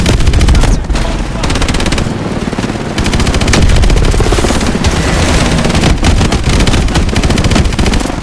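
Loud, continuous automatic gunfire in Call of Duty: Advanced Warfare, rapid close shots layered with heavier booms and rumbling impacts, hardly letting up, with brief dips near the start and around three seconds.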